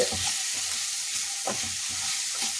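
Food sizzles steadily in a pan, a soft continuous hiss with occasional stirring scrapes, fairly quiet and without talk.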